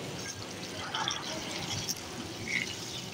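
Water is poured into a pan of kaleji gravy, a steady soft splashing and trickling that runs throughout the clip at close range.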